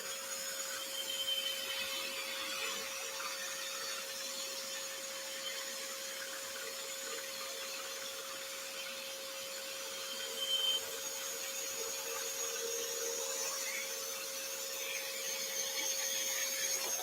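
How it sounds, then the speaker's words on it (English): A dust extractor drones steadily in a woodworking shop, a continuous broadband whoosh with a faint steady hum throughout and a small surge near the middle, without any voices. "Going to pop the extractor off."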